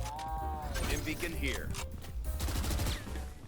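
Gunfire through smoke in Valorant: quick shots and short bursts crackle against a busy game background, close and sharp, with voices talking over much of the firing.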